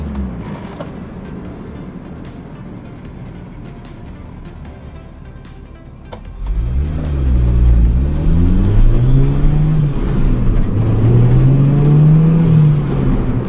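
A Honda Civic EG hatchback swapped to a turbocharged K23 engine idles quietly, then pulls away and accelerates hard, the engine note climbing and shifting through rising revs, loud and close, from about the halfway point.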